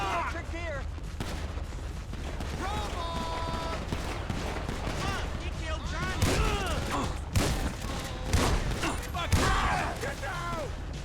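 Shotgun blasts in GTA V, several sharp, loud bursts spaced irregularly among a busy mix of game noise and chatter, with people talking throughout.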